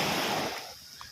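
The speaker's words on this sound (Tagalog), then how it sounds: "Laking alon." A large ocean wave crashes on a fishing outing at sea, a brief loud rushing wash of surf that quickly fades.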